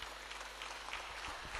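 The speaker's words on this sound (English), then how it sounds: "Please, let's clap for him." An audience at an opening address claps steadily, a dense, continuous patter of applause that fills the short moment.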